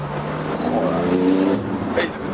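A Porsche GT2 RS turbo engine revs hard under acceleration, a continuous loud roar that builds and climbs, with a brief sharp burst near the end and excited voices in the car.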